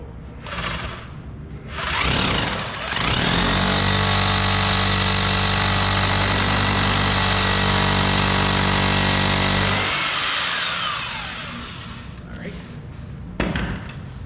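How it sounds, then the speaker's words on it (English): A power drill bores a hole for an anchor in a workshop, whining loudly and steadily for about eight seconds after a brief start, then spinning down, with thumps around it. "with the hole drilled, you just drop the anchor in"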